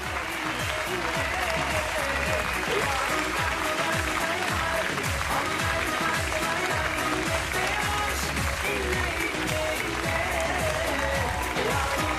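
Sustained, dense audience applause welcoming a pop singer onto the stage at a Turkish music awards ceremony, steady and loud throughout with no breaks, a large crowd clapping together.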